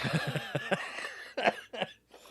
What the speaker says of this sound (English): Just had me cough up a lung.